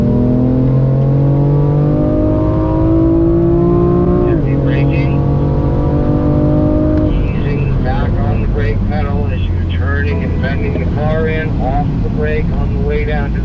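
A BMW M4 rises in pitch as it accelerates on a race track, loud and close, then shifts and keeps pulling while an instructor talks over the engine noise.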